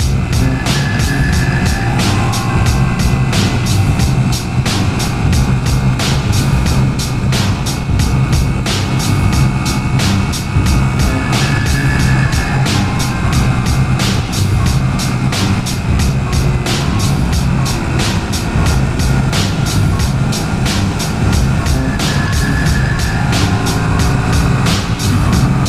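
A 2021 Hyosung Aquila GV125 Bobber motorcycle rides along with a steady, loud engine drone and rushing wind, and faint rhythmic ticking runs beneath it while gears change smoothly.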